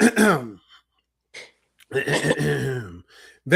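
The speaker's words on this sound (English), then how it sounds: "I really have to clear my throat" A man clears his throat in a couple of short, rough vocal bursts separated by a brief pause, close and alone.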